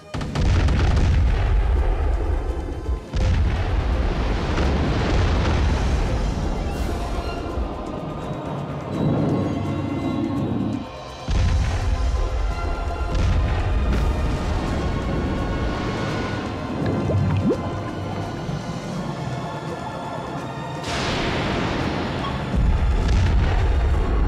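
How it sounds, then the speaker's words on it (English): Heavy guns firing in a battle scene from a giant shark versus giant octopus action film, with loud sustained booms and blasts layered over a dense rumbling soundtrack for the whole stretch. "Commence firing! Commence firing. Repeat, commence firing."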